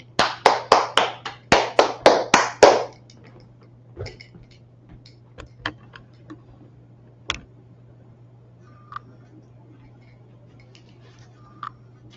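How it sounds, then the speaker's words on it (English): A class at a law session in Harlem, New York breaks into a short burst of about ten quick, close claps lasting a few seconds. The room then falls quiet except for a steady low hum and a few scattered faint ticks and taps. "Clap it up for the class."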